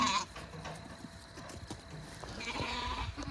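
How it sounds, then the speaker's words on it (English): Sheep on a homestead bleating, with a sharp nearby call at the start and another drawn-out bleat toward the end over quiet outdoor background. "And there's the sheep."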